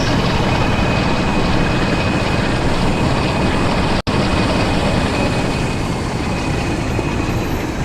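A train in Train Sim World powers up on a 1 in 83 gradient, giving a loud, steady, broadband engine roar that holds constant throughout, broken only by a momentary dropout partway through.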